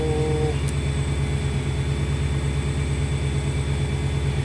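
A Holley EFI engine with HP Dominator multiport injection idles while still cold, a steady low rumble with a raised idle speed and an even pulsing throb, heard alone without talk.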